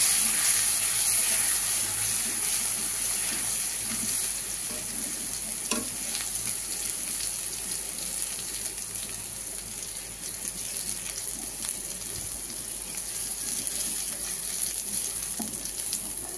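Salted turmeric water poured into a hot curry pan for shapla fish jhol, sizzling and frying steadily near and fairly loud throughout, with a brief splashing swell around the middle and no voices.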